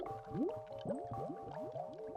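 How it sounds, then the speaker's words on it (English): Bubbles welling up in the game Chaos;Child, a run of wet gurgling bloops rising one after another in quick rhythm, close and fairly loud with no talk over them. "Bubbles appeared from underneath her skirt."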